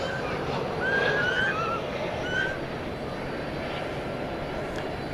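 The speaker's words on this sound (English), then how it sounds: "There's an Airbus A319." Airbus A319 airliner at night at DFW Airport, a steady engine rumble and broad roar at moderate distance, with a few faint high tonal chirps early on and no speech.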